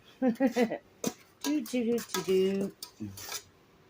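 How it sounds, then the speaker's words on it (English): A spoon clanks against a pot while a soda ash mixture is stirred at home, giving a few sharp metallic scrapes between stretches of a person talking. "Gotta stir it up quite a bit and get this process going."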